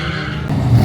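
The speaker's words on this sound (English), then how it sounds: "There's a bunch of drifting still going" Drift cars skidding at a meet near sunset, a loud tire squeal and engine roar close by, swelling toward the end of a short burst.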